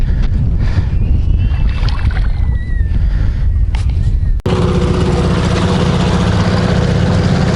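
An outboard motor on a fishing boat on a Yakutian river runs with a steady, loud mechanical drone under wind and water noise, shifting into a denser, harsher roar partway through.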